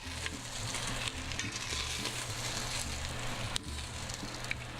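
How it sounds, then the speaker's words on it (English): Meat for sinigang browns in a hot pan with a loud, continuous sizzle close up and occasional stirring clatter. "So I'm gonna continue with browning the rest of the meat."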